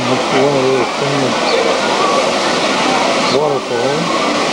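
A waterfall at the Norwegian exhibit in Disney World gives a constant loud rushing hiss, with someone talking over it.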